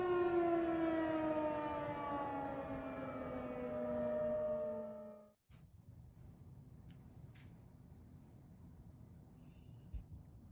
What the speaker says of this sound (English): A loud siren from the distance interrupts the song, and Estragon, the director, stops the rehea